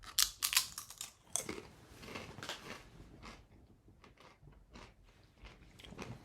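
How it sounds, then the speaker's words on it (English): Someone bites into and chews a small tortilla chip, giving a few loud, sharp crunches early and then softer, irregular chewing crackles close to the microphone, with no talking. "I'm going to be eating just a little bit of a tortilla chip"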